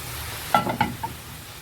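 Meat and onions frying in a pan after their juices have been released, with a few distinct stirring scrapes over a soft, steady background sizzle, close and moderately loud, no voices.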